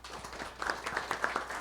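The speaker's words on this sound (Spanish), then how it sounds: "Por favor, un aplauso." Brief scattered applause from an audience at an international forum on Indigenous community radio, light clapping rising after a moment, fairly faint and close.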